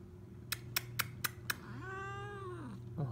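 A domestic cat gives one long, drawn-out meow that rises and falls, heard close by, after five sharp, evenly spaced clicks.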